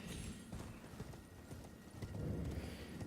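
A horse in Elden Ring gallops with rapid clip-clop hoofbeats and lets out a neigh, fairly quiet and continuous over a short stretch.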